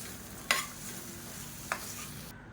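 Roasted gram is stirred in a hot pan for a tomato chutney, giving a low dry sizzle with two sharp scraping clicks of the spoon against the pan.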